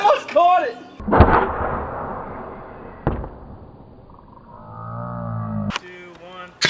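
Custom airsoft mortar fired at 60 psi during an outdoor airsoft game, giving loud sharp pops and a whooshing blast amid shouted voices, with a final crack near the end.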